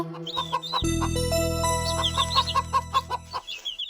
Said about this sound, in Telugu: అదుగో కోడి అమ్మ పిల్లలు కూడా ఉన్నారు